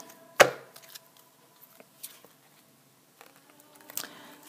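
Oracle cards being cut and shuffled, a sharp close riffle snap followed by a few faint soft card taps and slides in a quiet room.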